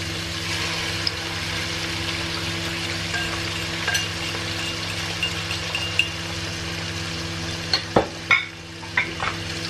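Egg frying at the edge of a pan beside fried rice, a steady sizzle with a low hum underneath, then a few sharp scraping knocks of a spatula near the end.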